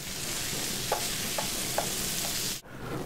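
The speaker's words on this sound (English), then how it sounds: "just saute that up, give it a nice color" Food sautéing in a pan at a diner kitchen, a steady close sizzle with a few soft utensil scrapes and stirs over it, ending in a brief pause.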